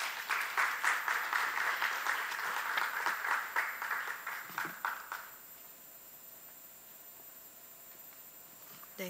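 An audience applauds after a presentation at an international martial arts center academic seminar, brisk clapping from a room of listeners that thins and fades out about halfway through, leaving a quiet hall.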